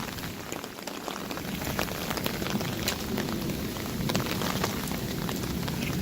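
Heavy rain falls steadily on a backyard, a dense, continuous patter with sharp drops striking nearby surfaces, loud and even with no voices.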